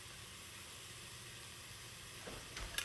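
Chopped onion sautéing slowly over low heat in a pan, a steady soft sizzle with faint hiss running throughout, brief clinks and a little stirring near the end.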